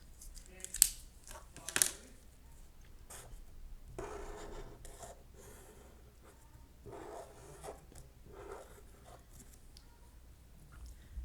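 Pen or pencil drawing a net of a 3D shape on paper, faint scratchy strokes and rubs in short bursts, with two sharper clicks early on, heard alone in a quiet room.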